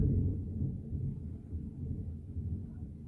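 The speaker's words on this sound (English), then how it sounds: "Do you guys hear that thunder?" Thunder rumbling outside during a storm, a deep continuous low roll heard from indoors, fairly loud and sustained with no talk.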